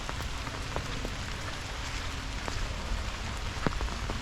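Steady heavy rain pours over a village area with green paddy fields, a dense even hiss with scattered distinct drops hitting nearby surfaces, no voices.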